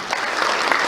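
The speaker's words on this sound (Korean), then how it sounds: "우리 교육감님께 박수 한번 드립시다." Brief, dense applause from an audience at a Gyeongbuk education office vocational education event, honoring the superintendent of education, loud and steady for under a second.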